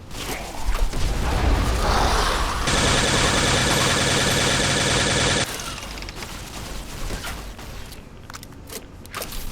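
Gunfire in the Fallout video game during a fight with hordes of Mirelurks and Ghouls: a loud, dense burst of rapid shots, then a sustained rattling barrage that cuts off into quieter rumbling action.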